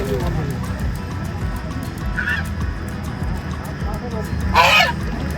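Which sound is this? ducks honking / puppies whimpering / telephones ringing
ducks honking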